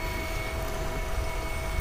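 Electric Motion Escape electric motorcycle giving a steady, shrill motor whine with a constant tonal edge over a dense rumble, continuous and fairly loud throughout with no talking.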